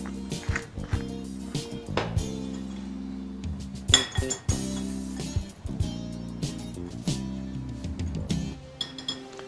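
Muffin ingredients, sugar, vanilla sugar and cocoa powder, are stirred in a bowl, with a steady series of close clinks and scrapes of utensil against the bowl.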